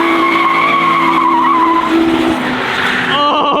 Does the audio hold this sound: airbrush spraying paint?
no